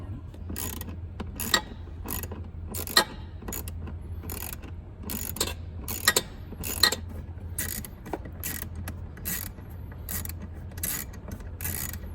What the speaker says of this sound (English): let's put our screws back in.